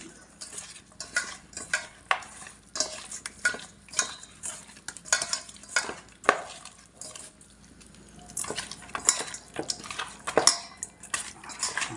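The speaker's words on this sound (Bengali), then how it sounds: "হলুদ দিয়ে দিলাম এবার মাছটা ভালো করে মাখিয়ে নিই" Repeated wet scraping and squishing of fish being mixed with turmeric in a metal pan, a busy, close stirring rhythm with occasional clinks and no talking.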